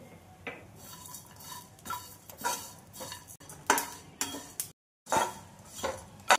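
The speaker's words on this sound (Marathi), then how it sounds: "तीळ, खसखस, जिरे, धने, बडीशेप टाकून हे सगळं छान भाजून घेऊ" Sesame, poppy seeds, cumin, coriander and fennel dry-roasting in a pan, with repeated scraping and stirring strokes of a spatula against the metal and faint crackling, close and alone.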